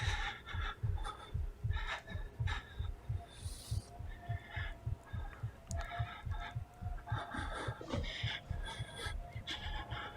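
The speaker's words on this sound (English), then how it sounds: "You hear that heartbeat?" Heartbeat effect in the horror game Outlast, played on Nintendo Switch: a steady run of deep, thudding double pulses, close and rhythmic, over a low ambient hum with no talk.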